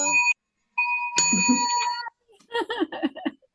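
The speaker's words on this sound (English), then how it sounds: "Oh, the bell." A bell rings twice in quick succession, bright clear tones with a short gap between them, followed by a person's voice speaking briefly.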